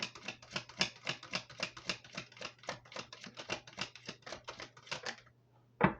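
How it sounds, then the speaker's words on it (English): Tarot cards being shuffled by hand, a quiet, rapid run of crisp riffling flicks at an even rhythm for several seconds, then a pause and one final snap. "Couldn't stop shuffling."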